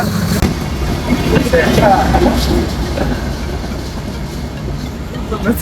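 Banalata Express passing through a station on the Dhaka–Rajshahi line, a steady low rumble of rail cars and wheels with clattering, moderately loud and continuous, with voices nearby.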